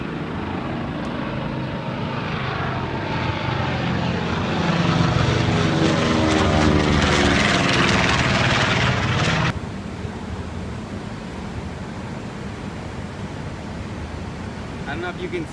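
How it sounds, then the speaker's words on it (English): An old propeller plane taking off at a Boeing 100th birthday event, its engine drone swelling loud as it passes close by, then cutting off abruptly to quieter outdoor ambience. "I thought this would be a good place to stand to watch that old ass plane take off."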